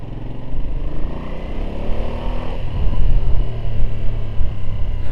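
A motorcycle in sports mode burbles and rumbles steadily up close, its exhaust note swelling slightly louder toward the end with no talking.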